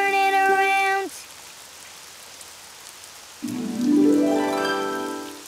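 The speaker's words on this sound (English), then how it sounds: "Oh, it's raining outside." Steady cartoon rain falls outside in a children's animated show, a constant hiss that carries on between sung, music-like tones with no talking.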